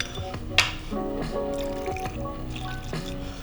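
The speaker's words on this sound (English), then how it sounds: "we're gonna add a little bit of triple sec, which is orange liqueur" Triple sec orange liqueur trickles and drips into a cocktail shaker in soft, wet splashes. One brief sharper splash is heard near the start, and faint background music plays throughout.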